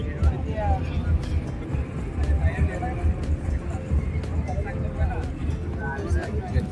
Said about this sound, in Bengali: আমাদের ট্রলার আবার ছেড়ে দিচ্ছে।